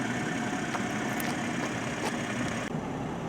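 A 2023 Toyota Supra engine idles steadily nearby, a low continuous rumble with slight vibration and no voices.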